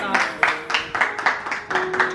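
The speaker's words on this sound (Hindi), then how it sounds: "जोरदार तालियों के साथ" An audience claps in unison at a Mother's Day celebration, with steady rhythmic beats of fairly loud, close applause.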